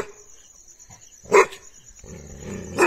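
A Himalayan Gaddi guard dog lets out a single bark at moderate distance outdoors in the evening, followed by quiet background noise.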